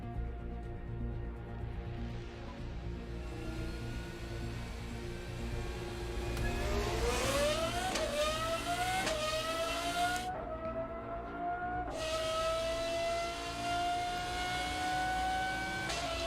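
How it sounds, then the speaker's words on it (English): A car engine revs up and accelerates, its pitch climbing steadily through several rising sweeps, loud and continuous over a steady low rumble with no talk. "we're actually going to start off with by playing the sound of the car"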